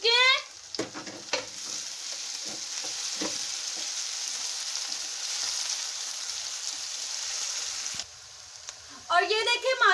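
Chicken pieces, okra and onions fry in a pan with a steady close sizzle, broken early on by a few spoon scrapes and stirring knocks; a voice speaks over it at the start and again near the end.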